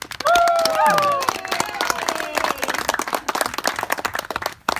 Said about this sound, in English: So let's all applaud Brooke